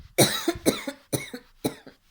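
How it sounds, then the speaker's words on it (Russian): Four distinct coughs, close and loud, each a harsh burst on the exhale with a short tail, spaced about half a second apart, with no talking. "И на выдохе в конце кашляем."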